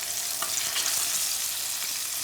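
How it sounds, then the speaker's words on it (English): Floured fish sizzles in a frying pan in a professional kitchen, a soft steady crackle and spit of hot oil with a few sharper pops, heard alone without talk. "So I'm basically going to pop this in the frying pan now."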